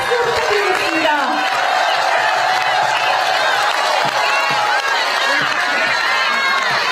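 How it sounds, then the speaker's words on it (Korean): Loud, dense crowd cheering and applause at an outdoor presidential campaign rally in Bucheon for candidate Kim Moon-soo, with whoops and shouts layered in a continuous roar throughout. "김문수 후보께 다시 한번 큰 박수 부탁드리겠습니다"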